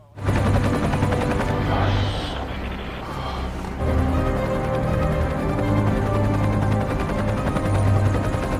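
Helicopter rotor noise drones steadily throughout, a constant whirring thrum with a brief shift in tone partway through.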